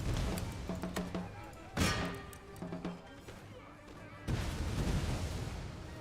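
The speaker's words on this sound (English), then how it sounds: "Rapid grenade throws." Grenades thrown in rapid succession and exploding in an Empire Total War battle with Austrian troops, a series of booming blasts and crackling pops amid dense musket fire and battle noise.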